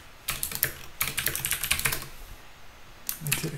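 Typing on a computer keyboard while writing markdown, a quick run of close, crisp key clicks in two bursts with a brief pause between them.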